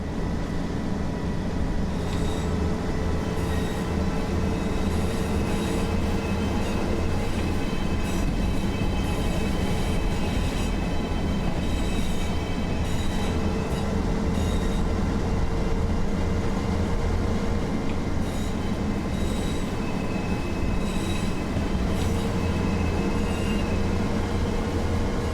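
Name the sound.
trains rolling in a railway video game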